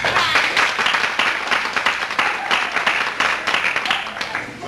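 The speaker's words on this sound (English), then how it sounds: "we certainly started out with a round of applause" A theatre audience applauds at a staged musical performance, steady clapping from many hands at moderate distance with a few louder bursts, continuing throughout.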